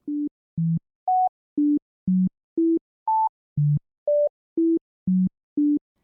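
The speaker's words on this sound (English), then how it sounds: "This seemingly disjointed set of tones is actually a familiar tune." A sequence of short, evenly spaced electronic tones jumps unpredictably between high and low pitches, each note separated by silence, forming a scrambled melody.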